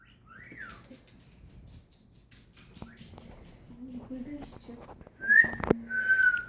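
A pet cockatiel whistles indoors, giving a few short rising and falling whistles near the start and clearer, brighter whistles toward the end, with faint background noises between.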